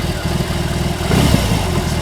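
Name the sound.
BMW R18 Transcontinental motorcycle engine revving on throttle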